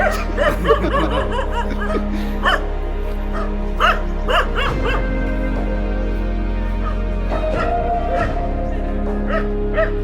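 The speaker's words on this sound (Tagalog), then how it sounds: "Ang ganda ng aso ko." A dog barks in repeated sharp bursts, close by, mixed with people laughing and chattering throughout.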